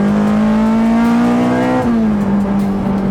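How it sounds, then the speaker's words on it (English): Honda CRX fitted with a K20 engine, built with parts from England, Malaysia and beyond, pulls loudly through a turn with a steady high-revving note that dips briefly as it shifts, close and constant throughout. "The VTEC in this thing is insane. That K20 just wants to rev"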